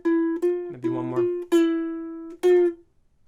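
Ukulele playing a theme for a kids' Halloween lesson, a few sustained plucked notes with a brief strummed cluster in the middle, close and unaccompanied.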